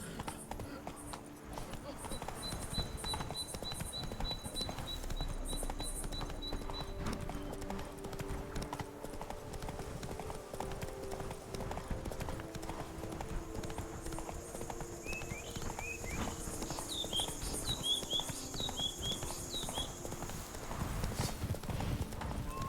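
Horse hooves clip-clopping steadily in The Witcher 3 video game, a continuous trotting rhythm over game music and ambience.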